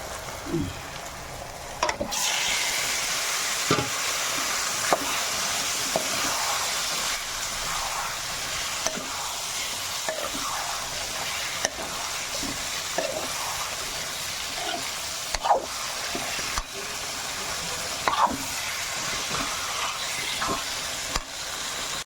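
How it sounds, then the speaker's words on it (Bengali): Chicken liver frying in oily masala in a pan, a steady hiss of sizzling with intermittent scrapes and knocks of a spoon stirring, close and continuous. "এবার মশলাটা থেকে তেল ছেড়ে এসছে, এবার আমি মেটেটা দিয়ে দেব"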